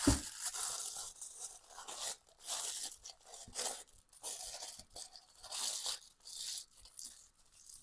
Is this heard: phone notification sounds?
no